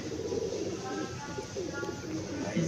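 Pigeons kept on a rooftop coo in soft, low, rolling calls close by, over a muffled background with some faint voices.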